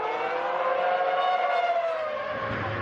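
Formula 1 race cars from the 2006 season scream off the start of a race, a loud continuous high-pitched engine whine that sweeps slightly down in pitch. The blend of several engines fills the short stretch with no pause.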